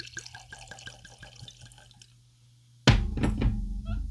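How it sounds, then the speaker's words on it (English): Clontarf Irish whiskey poured from the bottle into a glass, a run of quick glugging drips that falls silent, followed by a louder clunk and splashing pour. "So let's get a pour on, shall we?"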